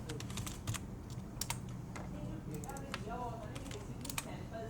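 Rapid typing on a computer keyboard during a coding lesson, irregular bursts of close key clicks under quiet speech.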